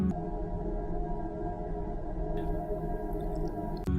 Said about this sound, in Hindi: Sound of Mars.